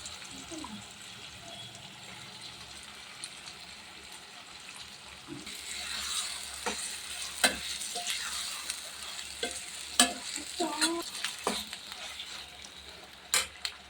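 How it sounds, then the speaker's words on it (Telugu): Mutton pieces hitting a hot pan for a gongura mutton curry, then sizzling and being stirred, with scraping clinks of a spoon against the pan over a steady frying hiss. "ఇప్పుడు మటన్ వేసుకుందాం."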